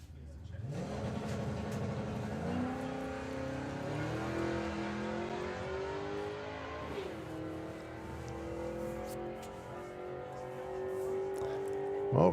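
A Mustang and a Blue Temptation Camaro launch down the strip at a drag racing nationals, engines climbing through gears in rising, shifting tones, heard from a distance with a commentator talking over them.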